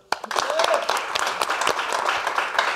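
Audience applause at a comedy roast welcoming Sarwendah, a burst of many hands clapping that begins abruptly and carries on steadily, with some voices mixed in.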